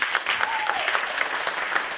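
Brief, close applause from a small audience at a children's violin masterclass in Riga, irregular claps over a room murmur with a short sliding tone in the middle.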